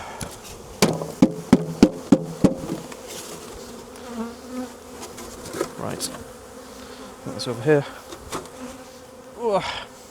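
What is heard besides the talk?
swarm of honey bees buzzing in a hive box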